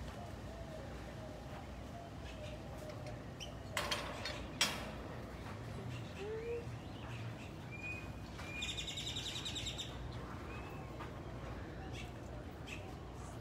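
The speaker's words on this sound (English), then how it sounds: "These are our Guam kingfishers." Guam kingfishers calling in an aviary setting, with a few short chirps and a brief, bright rattling burst standing out over steady low background noise.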